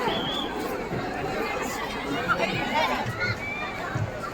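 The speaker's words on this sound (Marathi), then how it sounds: "खूप म्हणजे खूप गर्दी" A dense crowd at Wonder Park amusement park fills the air with loud, constant overlapping chatter and hubbub, with nearby voices mixed into the babble throughout.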